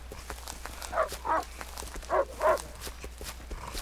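A hostile dog chasing a player character in the survival game Rust, heard as a few short barks or growls bunched near the middle, mid-distance, over a quiet ambient background.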